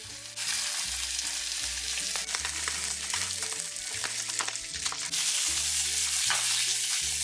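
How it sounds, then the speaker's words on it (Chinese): Salmon fries skin side down in a pan, a close, steady crackling sizzle with bursts of spattering and a few utensil taps, loud and continuous with no voices, over a faint low background tone. "鱼皮朝下煎至底部焦黄即可。"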